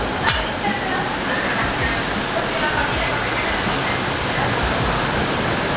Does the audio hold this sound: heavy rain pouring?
yes